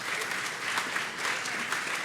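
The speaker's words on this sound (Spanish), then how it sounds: "Ok, un aplauso, por favor." Audience at a PyCon Latam 2019 Python talk applauding: dense, continuous clapping that stays steady throughout, with no voices over it.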